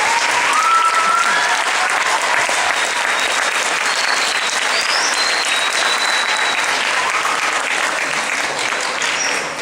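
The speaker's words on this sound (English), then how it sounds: "Let's give your parents a round of applause" Audience at a school spring concert applauding, with a dense, loud, sustained wash of many hands clapping that holds steady for the whole stretch and only begins to taper at the very end.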